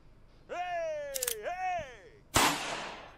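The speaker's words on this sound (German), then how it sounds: "Romata hat einen Unschuldigen erschossen" A sharp gunshot fires in a video game, a short loud crack about halfway through, preceded by a sustained voice-like tone and followed by a burst of noisy decay.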